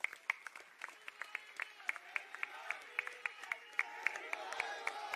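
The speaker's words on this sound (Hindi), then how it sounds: "मेरी मुराद है आपकी तालियों के बीच अरविंद केजरीवाल।" Crowd at a Punjab political gathering clapping to welcome Arvind Kejriwal: sparse, distinct claps ringing out at a steady rhythm with a thin wash of crowd noise beneath.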